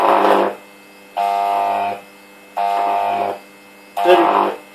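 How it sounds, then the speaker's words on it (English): Microwave oven transformer power supply drawing a high-voltage electric arc nearly 30 centimeters long at close to 1 amp: four loud, harsh buzzing bursts, each under a second, separated by short silent gaps, with no talk. "Look at that, they're almost a 30 centimeter arc."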